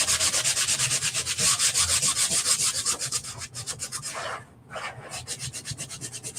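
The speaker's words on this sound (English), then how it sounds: "I use this little handheld sanding block with removable strips" Steady rhythmic scraping of a handheld sanding block with 120-grit strips rubbing back and forth over wood, close and continuous with a brief pause near the end.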